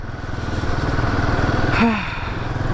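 A Royal Enfield Himalayan 450 motorcycle engine running while riding, a close, steady throbbing drone with a rhythmic pulse and a brief rising note near the end.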